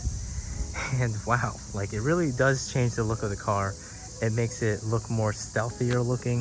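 A steady high-pitched drone of cicadas hums continuously outdoors while someone talks over it throughout.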